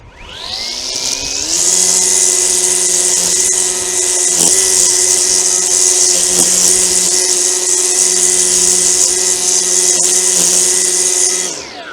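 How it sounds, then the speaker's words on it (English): An Etesia brush cutter is switched on and its motor spins up within about a second, then runs at a loud, steady, high-pitched whine for roughly ten seconds before winding down. "brush cutter wise, let's turn it on and see what it does"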